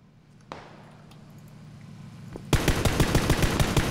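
An Uzi submachine gun opens up in PUBG Battlegrounds, a rapid, loud, evenly spaced string of shots starting abruptly after a quiet lead-in with a couple of isolated clicks.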